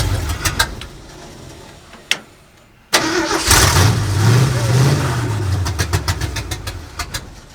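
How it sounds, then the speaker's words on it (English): A 1965 Ford F250 with an ignition circuit fault, heard as a sharp click, a short pause, then the engine catching and running loudly with a steady low rumble that swells briefly, while faint clicks tick over the top. "When I started it, when I've got it in the crank position, okay, motor runs good."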